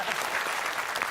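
A studio audience at a crossword quiz show claps steadily, a dense, even wash of applause that holds throughout without a break.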